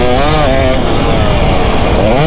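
A 2024 KTM 250 SX two-stroke dirt bike engine revs loud and close, a harsh buzzing wail that climbs steadily in pitch as the throttle opens, with no pause.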